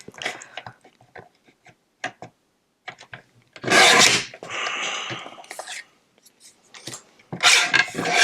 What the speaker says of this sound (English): I'm going to cut out the word Season's Greetings.